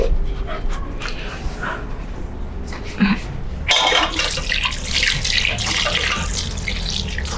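Water leaf being washed by hand in a bowl with plenty of water, a steady splashing and sloshing throughout that turns louder and busier partway through, with a brief dog bark in the background.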